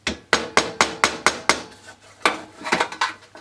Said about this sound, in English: with the aid of your trusty hammer and a bit of wood